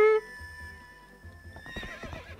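A horse whinnies once in Zelda: Twilight Princess HD, a short loud call at the start followed by hoofbeats, game music and ambient sounds.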